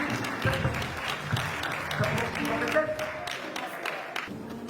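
A church congregation at a convention gathering applauds to acclaim the Lord, a sustained wash of clapping hands with voices mixed in, steady and moderately loud.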